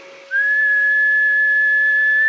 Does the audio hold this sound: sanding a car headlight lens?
no